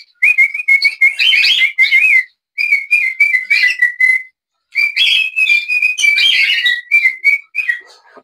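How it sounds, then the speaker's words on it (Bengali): A tame pet bird in a home bird room whistles bright, repeated chirping phrases, close and loud, in three bursts separated by short pauses, with no talking. "দেখেন ও আমার সাথে শীষ বাজাবে।"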